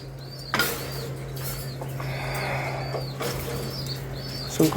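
Pigeons flap their wings in several short, close bursts of fluttering over a steady low hum, with brief quiet gaps between the flurries.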